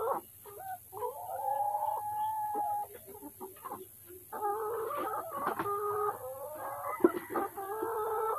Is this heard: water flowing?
no